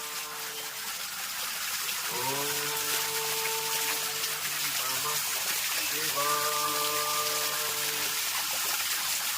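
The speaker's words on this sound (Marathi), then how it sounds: "हे सगळं धबधबो आहे" A waterfall among mossy, forested hills gives off a continuous broad rushing roar. A voice talks over it in two stretches.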